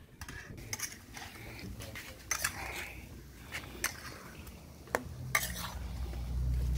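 A spoon stirs chicken gravy in a pot, giving scattered scraping and clinking knocks against the metal over a low simmering hiss, close and fairly quiet, with no talking.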